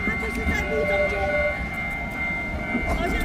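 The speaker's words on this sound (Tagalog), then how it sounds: "Ito pala yung train na sinasabi ni Kuya." A train at Alishan, Taiwan, rumbles nearby with a low, continuous mechanical drone and faint tonal whines, under people chatting close by.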